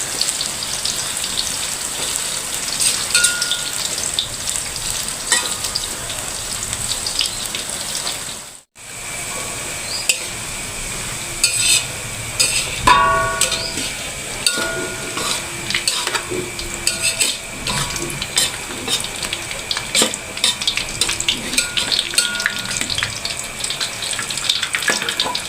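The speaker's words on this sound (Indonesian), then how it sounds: "Sekarang goreng tempe." Tempeh sizzles in a frying pan for a Sundanese home-cooked meal. The crackling hiss is steady and dense and continues throughout, with one brief dropout near the start and no talking.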